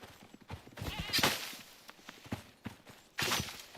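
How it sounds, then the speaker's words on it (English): A horse in the survival video game Icarus being fed, giving a few loud, close bursts of snorting and munching noise between quieter stretches. "This is how we feed the horse."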